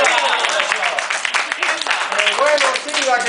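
Studio audience applause during a comedy sketch imitating a Cuban TV newscast, a steady wash of clapping with voices and cheering mixed in throughout.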